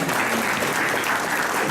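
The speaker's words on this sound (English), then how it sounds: "I want to give a round of applause to my father too." A gala audience at a 2018 Latin American chamber of commerce event in Essex County gives a dense, even round of applause for the speaker's father, with no other sound standing out.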